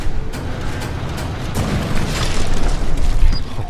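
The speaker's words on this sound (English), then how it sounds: "He shoots a cannon at the enemy and the enemy barely moves" Cannon shot hitting an enemy in the Resident Evil 4 Remake video game, a deep rumbling boom with short sharp cracks, loud and sustained with a swell near the end.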